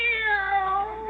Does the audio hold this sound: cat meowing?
yes